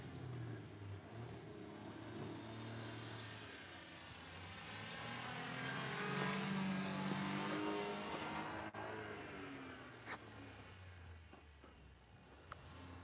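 A small kei truck engine revs and strains while climbing a deep-snow hill, a sustained rising and falling drone with wavering pitch and some tire slip, fairly distant and moderately loud, easing off toward the end.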